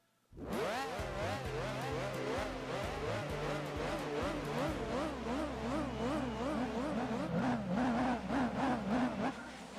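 Race car engines in a Gran Turismo 4 DTM race whine continuously at high revs, with pitch rising and falling through gear shifts as several cars run close together, loud and unbroken throughout.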